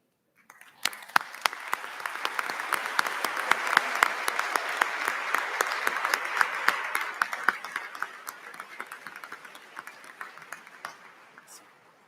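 Commencement audience at Iowa Wesleyan University applauding standing faculty members, a broad wash of many hands clapping that swells quickly, holds steady, then tapers off near the end, with a few voices mixed in.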